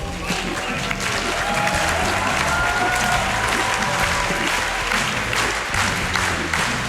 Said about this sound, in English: You're going to have to clap for a while.